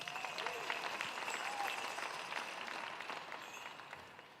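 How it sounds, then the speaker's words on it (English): A round of applause from the audience at a Lumbee cultural presentation, a steady crowd clapping that holds evenly and then gradually thins and fades toward the end, heard from a moderate distance. "And so I want everybody to give him a round of applause."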